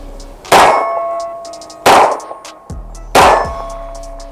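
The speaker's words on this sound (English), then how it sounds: "We're going to keep shooting, have some fun" Three sharp, loud gunshots from a Smith & Wesson M&P Shield 2.0 9mm EZ pistol ring out at an even, unhurried pace, each followed by a short metallic ringing decay, with a faint clink between the second and third shots.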